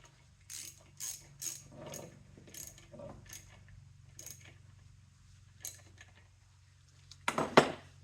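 Reverse-thread 14mm nut tightened on a BMW R69S motorcycle engine, a series of close metallic ratchet clicks and tool clinks in short bursts, ending with a louder clattering metal knock.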